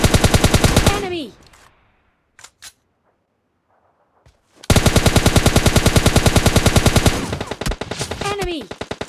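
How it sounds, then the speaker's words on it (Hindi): PUBG Mobile Lite gunfire: loud, rapid automatic bursts, then a near-silent gap with a few faint clicks, then another long sustained burst and a shorter one, up close. "मैं इन बंदों पर कुछ शॉट देता हूँ"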